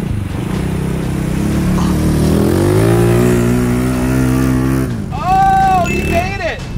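A homemade mini-jeep's engine pulls into a deep mud bog, revving up and rising in pitch to a loud strained drone, then dropping off as whining tones take over, with a voice heard briefly.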